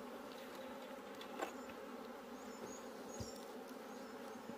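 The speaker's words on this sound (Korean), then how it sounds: "동양종 꿀벌을 내용물을 지금 제가 처음으로 보여드리는 겁니다" Asian honeybees (Apis cerana) swarm inside an opened hive at an apiary, making a soft, steady, dense buzzing hum with no voices.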